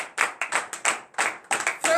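A congregation at a morning prayer gathering in Comè, Benin, clapping in acclamation, a run of sharp close claps in irregular bursts with short gaps between them.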